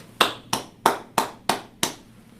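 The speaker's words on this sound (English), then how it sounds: "my applause" Six slow, evenly spaced hand claps, sharp and fairly close, each ringing briefly in a room before the next, with quiet pauses between them.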